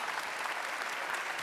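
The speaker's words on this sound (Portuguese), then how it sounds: "Se essas palmas são para exaltar a palavra santa do Senhor Jesus, aplauda mais forte nessa noite" A church congregation applauds together in a dense, continuous wash of clapping that stays steady and moderately loud throughout, with no talking over it.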